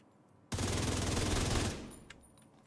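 A sustained burst of rapid automatic gunfire in a video game, loud and close, rattling for just over a second before cutting off, followed by faint game sounds.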